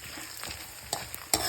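Mustard seeds and urad dal frying in hot oil, a close, steady sizzle with sharp crackling pops from the seeds and brief stirring scrapes, heard alone with no talking.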